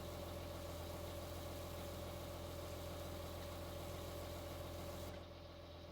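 A tractor engine idles in Farming Simulator 19, a steady, even drone with a low hum that holds unchanged for several seconds before dropping slightly at the end.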